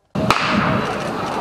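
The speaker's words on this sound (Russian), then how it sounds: "Вместо сигнала на старт прозвучал выстрел из пистолета." A starting pistol fires once to open a cross-country race held on a city street, a single sharp crack standing out briefly over a steady wash of outdoor crowd and street noise.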